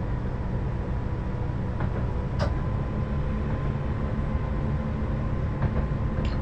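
Steady rumble of a train running between Lowestoft and Norwich in a train simulator game, a continuous low drone with a few faint clicks and squeals, moderately loud and unchanging throughout.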